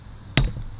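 A machete comes down on a walnut with a single sharp, loud chop, then a short dull thud fades out.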